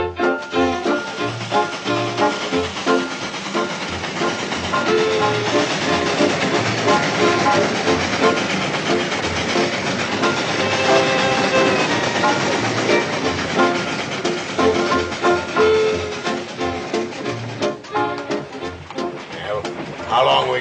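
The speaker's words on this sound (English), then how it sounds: "You said you would signal the engineer to stop the train so Mr. Waterhouse could see how the brakes w" Train running on rails, a loud continuous rumble and clatter of wagons with rhythmic wheel clicks, while people talk over it.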